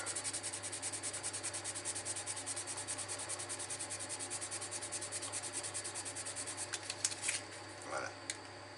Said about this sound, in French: Si je le ponce comme ça, on va le voir tout de suite.